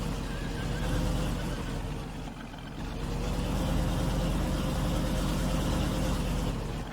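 Horses in the farming game Farming Simulator 19 neigh and whinny over a steady loud mechanical drone, close and continuous without speech.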